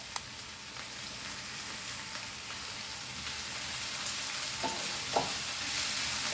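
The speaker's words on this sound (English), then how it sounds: "we'll saute our tomatoes now in this" Tomatoes sauté in a pan with a soft, even sizzle like light rain, growing slightly louder over time, with occasional faint stirring taps and no talk.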